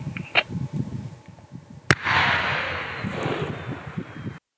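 A single sharp distant blast from a controlled detonation of explosive ordnance in the Kryvyi Rih district, Ukraine, cracks out, followed by a long rumbling roar that slowly fades, with outdoor wind noise throughout.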